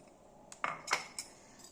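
A spoon mixes curd into poha in a bowl, giving a few soft, close clinks and scrapes over a quiet background.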